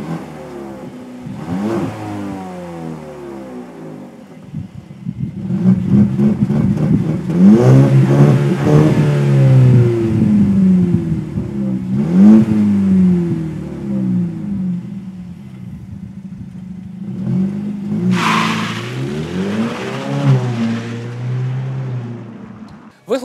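A car with an aftermarket exhaust revs in several loud bursts, a deep rumbling engine note rising and falling over a steady idle, with a sharper rasp near the end.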